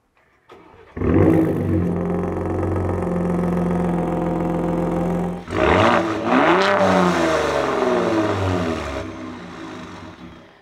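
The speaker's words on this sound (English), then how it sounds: "let's just kind of hear the remote startup real quick of that" A 2021 third-generation Ford Raptor 37 pickup is started remotely: the engine cranks and fires, settles into a steady loud idle, then briefly flares in a rev before settling again.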